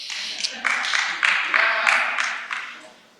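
A crowd at a 2025 Salem City Council Ward 2 candidate forum claps in a short burst that rises in uneven waves and fades out after about three seconds.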